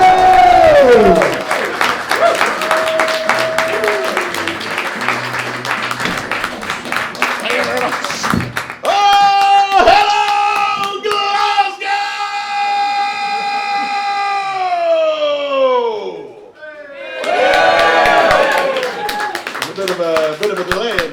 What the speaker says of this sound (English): please start the clapping, start the cheering